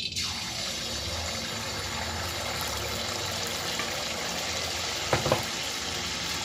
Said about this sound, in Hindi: देखिए हम कढ़ाई में पुए डालने जा रहे हैं।